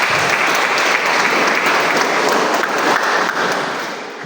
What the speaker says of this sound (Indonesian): Kita berikan tepuk tangan kepada teman-teman panitia.